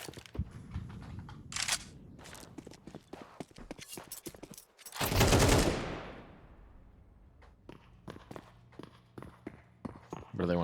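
Gunfire in Counter-Strike on Mirage during a pro match, sharp clicky shots in scattered bursts with one louder blast midway, under a caster's commentary.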